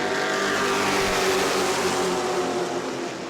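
Pro trucks roar together on a restart at New Smyrna Speedway, a loud sustained engine drone close by, holding steady before easing slightly at the end.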